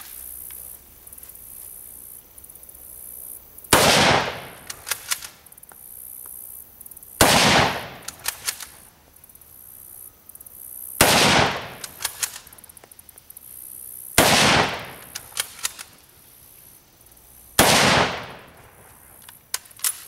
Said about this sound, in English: 5 rounds with the M44 bolt action